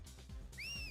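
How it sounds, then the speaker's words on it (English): A rising two-tone whistle sounds in an action video game, a short bright sweep arriving after a low rumbling game backdrop. "Now we got a whistle."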